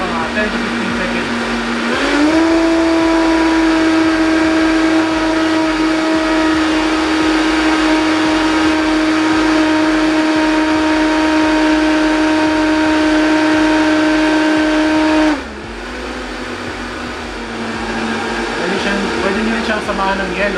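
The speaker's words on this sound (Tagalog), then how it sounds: "napakalakas ito ng blender na to" A high-power blender making a moringa smoothie whirs loudly and steadily, its pitch rising as it speeds up, then dropping briefly before continuing.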